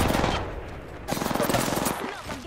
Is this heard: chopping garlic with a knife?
no